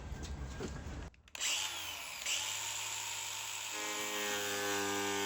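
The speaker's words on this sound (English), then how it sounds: "this is just a regular metal cutting blade, like a normal cutoff wheel" A cheap metal cutoff wheel on a power tool slices through steel for an off-road Subaru bumper install, a steady loud high whine running after a brief pause, close and continuous with no talk.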